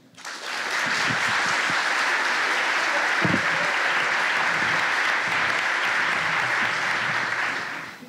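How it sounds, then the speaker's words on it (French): Audience at a live storytelling stage show applauding loudly and steadily, dense clapping that swells in quickly, holds for several seconds and fades at the end. "Donc, je vous demande d'applaudir très fort, Louis."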